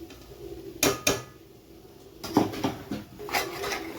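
Metal spoon scraping and knocking in a pan as coconut, sesame and cumin paste is stirred into a spicy Kolhapuri mutton masala, a few sharp clanks then softer repeated scrapes, close and fairly loud.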